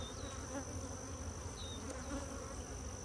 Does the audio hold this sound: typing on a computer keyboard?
no